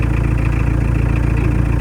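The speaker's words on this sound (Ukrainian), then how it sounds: "Це трактор, а не машина" A tractor engine runs steadily close by, a loud low throbbing idle with a rapid even pulse and no voices over it.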